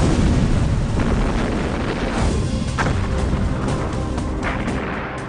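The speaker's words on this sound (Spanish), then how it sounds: "Así comienza la explosión, que atraviesa toda la superficie uniendo las dos piezas." Explosion-welding detonation sweeping across a metal surface to bond two plates, heard as a loud, sustained, roaring broadband blast that rumbles on for several seconds and slowly fades.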